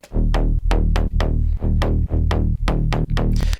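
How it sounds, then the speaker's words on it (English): A punchy MIRAGE synth bass riff for melodic techno pulses in a steady rhythm, short heavy notes repeating with brief gaps between them, loud and upfront with no other sounds. "So the bass groove layer sounds like this."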